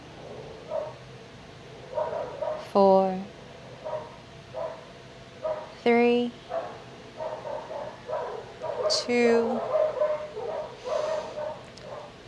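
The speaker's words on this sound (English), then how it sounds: "I apologize for the dogs." Several street dogs bark in sharp bursts at a moderate distance, with yips scattered over roughly twelve seconds, while an instructor calmly counts down during an outdoor yoga session.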